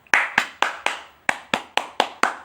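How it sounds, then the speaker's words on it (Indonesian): Hands clap alone in a classroom music activity standing in for angklung, nine crisp, close claps in a steady, even rhythm with silence between each. "kalian bisa tepuk tangan."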